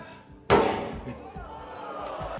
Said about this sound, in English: Now I hit the CyberTruck, same thing.